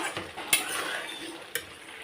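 Ghugni is stirred in a pan, with a soft sizzle beneath and two sharp clinks of a spoon against the pan's side.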